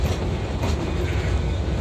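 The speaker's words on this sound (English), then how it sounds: "Coming directly at the camp is the Cumbres and Toltec Railroad. Number 19." Cumbres and Toltec Scenic Railroad train number 19 passes close by as a loud, steady rumble with rhythmic wheel clatter on the rails, no voices present.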